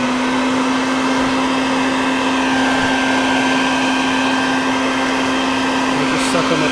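A vacuum cleaner sucks up wasps from a nest, a loud, constant, close motor whine with a steady airflow roar throughout and no pauses.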